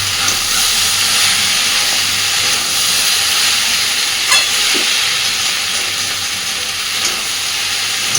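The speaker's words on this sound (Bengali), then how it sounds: "এইভাবেই আস্তে আস্তে নেড়ে নেড়ে নেড়ে নেড়ে বেশ খানিকক্ষণ ধরে পুরো রান্নাটা কমপ্লিট করে নেব।" Raw banana and potato curry sizzles and fries in a pan over a lowered flame, a steady broadband hiss with faint scrapes of stirring throughout, no talking.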